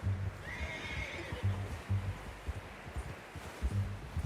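A horse whinnies briefly in Red Dead Redemption 2, fairly distant and soft, over a steady rustling background with low thudding hoofbeats in a snowy forest.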